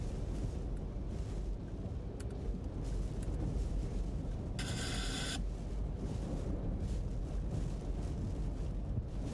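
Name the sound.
hurricane winds gusting over 80 mph, Hurricane Francine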